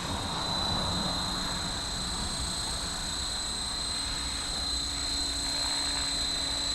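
A Blade Fusion 360 belt-driven RC helicopter flies after a repair, its rotor and motor giving a constant high whine and broad whooshing hum that hold steady and fairly loud throughout, with no voices.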